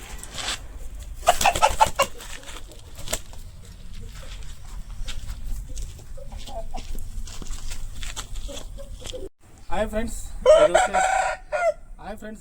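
A large gamecock of about 4 kg crows loudly twice, once early and once near the end, with softer clucks in between and a person talking nearby.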